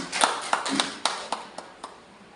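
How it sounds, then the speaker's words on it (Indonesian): A handful of sparse claps greets the mothers of the IGB group, about eight distinct slaps at an uneven pace, fairly close and fading toward the end. "Untuk itu tepuk tangan kepada ibu-ibu IGB ini"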